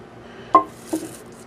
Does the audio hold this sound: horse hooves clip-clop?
no